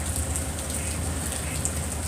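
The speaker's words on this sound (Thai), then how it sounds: "ฝนตกแรง" Heavy rain pours steadily in a continuous dense hiss with occasional louder drop impacts, even and unbroken throughout, fairly close and with no talk.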